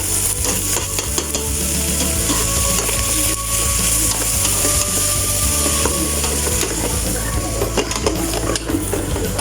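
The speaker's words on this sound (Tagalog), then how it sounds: "Gigisa-gisahin ko lang po ito." Ground meat sautéed in a pan, a dense continuous sizzle with scraping stirring strokes, loud and close, no talk.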